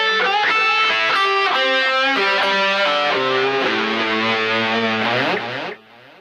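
A fast lead lick on distorted electric guitar, a quick run of notes played alone and loud over an A-based solo, ending on a sustained note that is cut off at the end.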